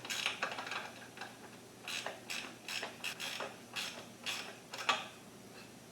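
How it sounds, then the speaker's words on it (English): A screw on a Honda Civic battery hold-down is tightened, giving a series of faint, close, irregular ratcheting clicks and creaks spread over several seconds. "Screw it nice and tight."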